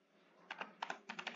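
Keys are typed on a computer keyboard in a quiet room, with a few close, crisp clicks coming in small clusters, and no voices.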